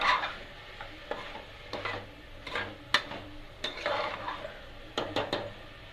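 Ginger garlic paste being stirred in a pan, a soft sizzle beneath repeated close scrapes and clinks of a spoon against metal, no voices.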